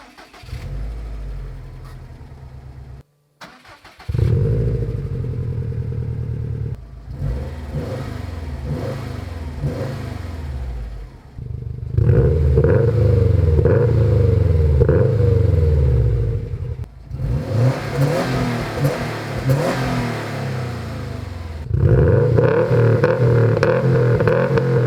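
Subaru STI fitted with a new aftermarket exhaust starts up and is revved repeatedly, deep burbling idle between several loud, sustained rev blips, close and with no talk.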